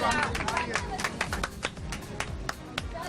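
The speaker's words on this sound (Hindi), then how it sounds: "यहाँ तालियां बज रही हैं" A studio audience at a Pakistani TV talk show claps in scattered, uneven bursts of moderate loudness, mixed with crowd murmur while people talk over it.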